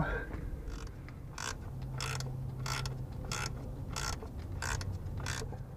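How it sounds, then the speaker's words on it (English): Worm drive turned to shift the belt bracket on a 1991 Jeep Cherokee XJ, producing a close, regular ratcheting series of metallic clicks, about eight evenly spaced bursts over a low mechanical hum. "we should be able to move that bracket in by using that worm drive"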